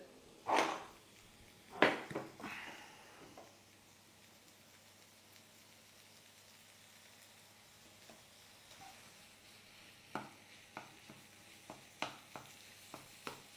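Minced meat for a hachis parmentier going into a pan with softened onions and a pinch of salt, a soft low sizzle broken by a few scraping stirs early on and a run of sharp spoon taps near the end.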